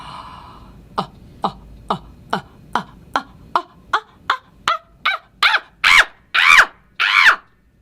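A voice imitates an angry monkey with a series of short sharp grunts that quicken and grow into louder, higher hooting shrieks.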